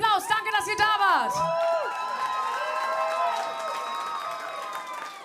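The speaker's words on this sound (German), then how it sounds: "Euer Applaus." Audience at the final of a band contest cheering and applauding, with a crowd roar and clapping after a short burst of whoops, while a voice speaks over the start.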